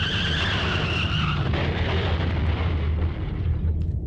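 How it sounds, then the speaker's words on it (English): A car skids with a long tire screech over a heavy, sustained rumble, then the noise of a crash swells and slowly fades, loud and close with no speech. "Then there was an oddly familiar sound. Another car accident."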